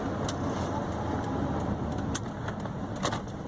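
A 1992 Rover Metro driving on the road, with a steady, fairly loud broadband engine and road rumble that carries on throughout with no clear changes.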